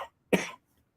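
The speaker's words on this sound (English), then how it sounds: "I got a cough a minute." A single short, sharp cough close to the microphone, alone after a brief moment of silence.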